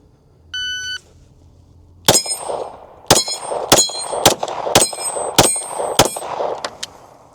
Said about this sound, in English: Let's shoot the dueling tree.